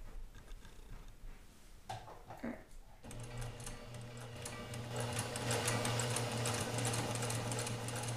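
A sewing machine fitted with a 1/4 inch foot runs a seam, starting after a few quiet handling sounds and then humming steadily and close, growing slightly louder toward the end.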